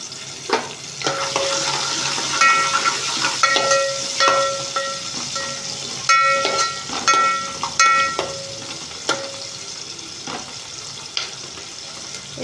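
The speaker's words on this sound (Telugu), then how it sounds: "ఇప్పుడు ఇందులో ఒక ఉల్లిగడ్డ వేస్తున్నాను" An onion fries in a pan for khichdi, sizzling steadily up close while a spoon stirs and clinks against the metal in irregular taps, with faint tonal beeps in the background and no speech.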